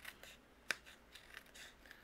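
Scissors trim around a piece of cardstock during card making, giving faint, irregular snips and rubbing paper sounds close up in a quiet room. One snip is crisper than the rest.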